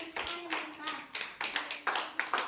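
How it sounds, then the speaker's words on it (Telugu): Children clap for a classmate named Anvika in an Anganwadi preschool room, a few bursts of uneven hand claps close by while someone speaks over them. "క్లాప్స్ కొట్టండి అన్వికాకి అందరూ"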